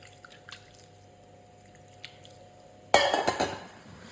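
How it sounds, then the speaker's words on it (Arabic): Water is poured into barley flour in a bowl for dough, a sudden close gush of liquid following a quiet stretch of faint clinks and drips. "نبداو نضيفوا الماء هكذا"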